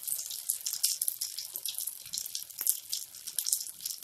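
Aloo, bread and paneer pakora balls frying in oil: a bright, hissing sizzle with fluttering bubbling that rises and falls, heard close and alone without speech.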